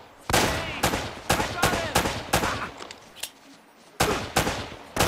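Sharp gunshots in the video game Uncharted: Drake's Fortune, about ten loud, separate blasts fired in quick irregular succession, with short gaps of quiet between some of them.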